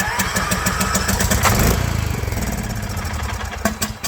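A Troy-Bilt Pony lawn tractor engine cranking and catching, then settling into a loud, rapid, close-up putter of a small single-cylinder engine running steadily.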